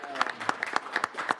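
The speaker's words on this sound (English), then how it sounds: "give him a round of applause" Short burst of applause at a council meeting honoring a member's birthday, a handful of people clapping unevenly at moderate volume for under two seconds.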